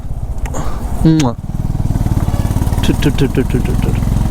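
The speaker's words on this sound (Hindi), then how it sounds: "एंड इसका थ्रॉटल जो साउंड है, थ्रॉटल साउंड" A motorcycle engine on a long Pune to Delhi road trip, a steady close rumble that swells with throttle blips while riding, with someone speaking over the engine throughout.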